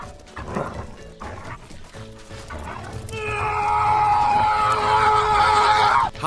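A pet dog yips and lets out a long, high, whining cry while racing around an indoor course, fairly close, with a busy, noisy background beneath.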